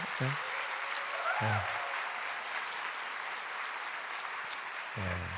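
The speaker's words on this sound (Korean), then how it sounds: "박수 한번 해주세요" A church congregation applauds during a Wednesday worship service, a steady even clatter of many hands at moderate level, with short bursts of voice breaking in briefly at the start, middle and end.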